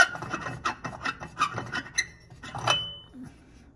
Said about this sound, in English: Go ahead and unscrew this one.